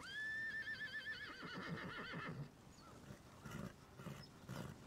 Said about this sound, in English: Whose horse is that?